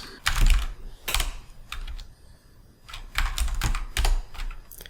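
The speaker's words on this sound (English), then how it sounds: "I'm going to type in div, open my brackets," Fingers tap a computer keyboard while CSS code is written, in quick clustered bursts of clicky keystrokes with short pauses between them, close and fairly loud.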